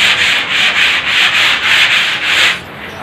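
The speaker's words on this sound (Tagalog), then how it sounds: "Gagamit tayo ngayon ng liha na number 60." Number 60 sandpaper rubs back and forth along the grain of a 1x2 piece of wood in steady, rhythmic strokes, loud and close, with no voices.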